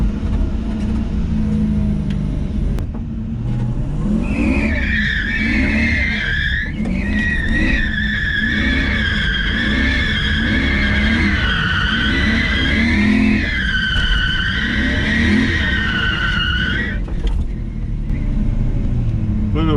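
Lexus drift car on a shakedown test, tires skidding and squealing in long sustained screeches over a loud, constant engine roar, close by and continuous.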